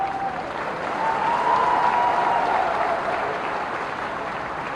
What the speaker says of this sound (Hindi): अरे मेरी महिलाएं क्या तालियां बजा रही है